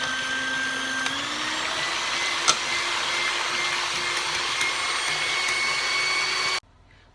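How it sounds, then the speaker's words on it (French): An electric whisk beats egg whites for a sweet soufflé: a steady, close motor whine that steps up in pitch once as the speed increases, runs evenly, then cuts off abruptly. "je vais monter à l'aide d'un fouet mes blancs en neige. Donc, je branche."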